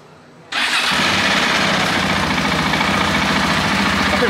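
A KTM 690 supermoto motorcycle engine fires up after a quiet moment, catching abruptly and settling into a loud, steady, rough idle up close for a trackside noise test.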